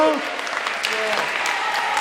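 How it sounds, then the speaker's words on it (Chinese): Church congregation applauding summer camp coaches and volunteers at a Sunday service, a brief burst of clapping from a crowd with a voice speaking over its start. "我们用热烈的掌声给我们这群教练同工"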